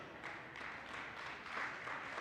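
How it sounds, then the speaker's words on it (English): Faint, distant applause greets the first speaker at a global network marketing summit, a soft steady patter of clapping with no talk. "please give him a round of applause as we show him"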